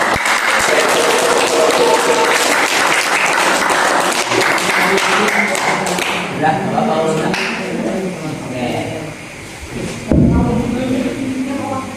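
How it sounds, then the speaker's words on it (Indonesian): Audience applause after a practice debate between Islamic boarding school students, arguing seniority in the pesantren, sustained clapping mixed with cheers, followed by a voice talking over the thinning claps near the end. "tepuk tangan sekali lagi buat mereka"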